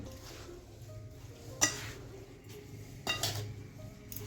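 Raw mango pieces being mixed with turmeric and pickle spices in a kitchen bowl, a soft stirring scrape with two sharp clinks of utensil against the dish, close and alone.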